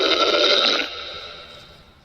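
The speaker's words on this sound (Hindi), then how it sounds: "जोरों की दहाड़ सुनाई दी।" A loud, throaty roar as a sound effect in a Hindi horror story, one harsh burst lasting under a second that then trails away into a fading rumble.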